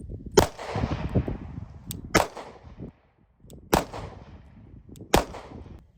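Four sharp pistol shots fired from a handgun fitted with a red dot sight, spaced about 1.5 seconds apart, each a loud crack with a short decaying echo, plus a fainter pop between the first two.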